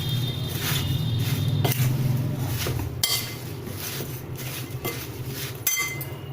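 Mango pickle with spices is stirred and mixed in a pot, giving a steady close scraping with metallic clinks and occasional sharper knocks against the pot, with no talking.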